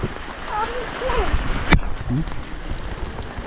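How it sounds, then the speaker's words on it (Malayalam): A heavy monsoon downpour hisses steadily near a kitchen doorway. Voices talk over it, and a sharp knock cuts in near the middle. "എന്താ മുട്ട മഴ"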